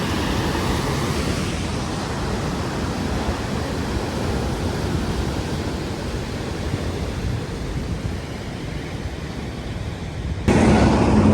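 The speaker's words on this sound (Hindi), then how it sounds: "बहुत ज्यादा शुकाट है और तेज पानी जा रहा है।" Fast-flowing water rushes through a canal in a steady, loud, broadband roar that fills the whole stretch, close by and unbroken, with a brief louder shift at the very end.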